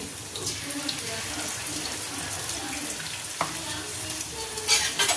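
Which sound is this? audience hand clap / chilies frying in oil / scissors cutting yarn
chilies frying in oil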